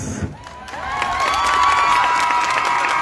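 An audience at a school celebration for Día del Indio cheers and claps, with high children's shouts and whoops rising into a loud, sustained roar after a brief quieter start.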